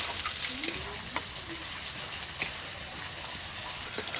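Onion, ginger-garlic paste, green chilli and tomato fry in a pan, a soft continuous sizzle with occasional light stirring knocks, quiet and close, with faint voice-like tones briefly in the background.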